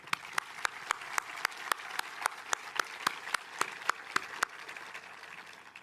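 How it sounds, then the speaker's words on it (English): Sparse, scattered hand claps from a small crowd at a high school graduation, sharp individual slaps at a steady loose rhythm, fairly faint and thinning out toward the end. "give another round of applause"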